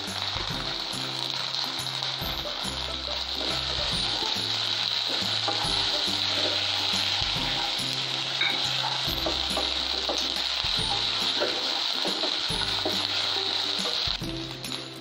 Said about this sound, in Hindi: इसे अच्छे से भून लेंगे और थोड़ा सा करी पत्ता डालेंगे।